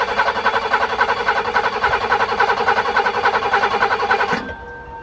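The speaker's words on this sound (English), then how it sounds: "let's fire this thing up" A BMW E30 engine cranks without catching: a steady, rhythmic starter churn runs for about four and a half seconds, then cuts off, leaving a faint residual hum.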